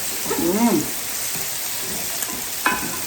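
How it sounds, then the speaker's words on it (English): A pan of food with lemon zest and fresh scallions is stirred over gentle frying, a soft scraping and sizzle running steadily, with one brief clack near the end. "And then we'll just give it a good stir."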